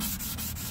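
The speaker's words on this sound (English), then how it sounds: "just be careful not to sand off your paint on your hood or anything" Abrasive sanding on a Chevy Silverado grille, a steady close scratchy rub with a few quick strokes punctuating the continuous sound.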